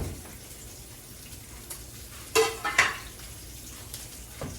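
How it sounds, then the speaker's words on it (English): Cleaned, headless sardines sear in a frying pan, a quiet steady sizzle with a couple of louder bursts of spitting and clinks of utensil against the pan. "Just gonna let them sear on both sides."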